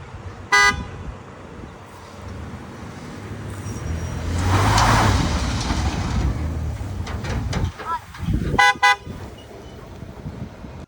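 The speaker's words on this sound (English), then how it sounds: "We're gonna get it out with the school bus." A school bus strains to pull a stuck trailer free on a washed-out road, engine noise swelling into a rough mid-clip roar, bracketed by sharp horn toots at the start and near the end.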